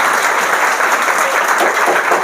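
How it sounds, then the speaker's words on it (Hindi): Students give loud, dense, sustained applause in a classroom welcoming a visiting Bihar topper, a continuous close clapping roar with no break. "जोरदार ताली हो जाए इनके नाम पर।"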